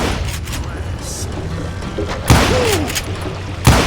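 Gunfire in the Western shooter Call of Juarez Gunslinger: two loud, sharp booming shots ring out about a second apart over a steady game background with a faint whistling sweep between them.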